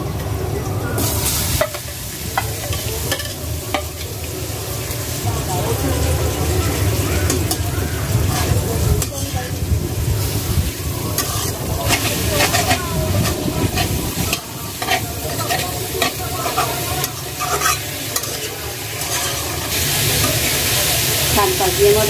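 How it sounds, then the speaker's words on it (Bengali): Bottle gourd greens stir-fry in a pan with dried chilies, onion and garlic, giving a steady loud sizzle broken by frequent scraping strokes of the stirring spoon throughout. "শাক ভাজি আমার হয়ে গেছে, এখন আমি নামায় ফেলবো।"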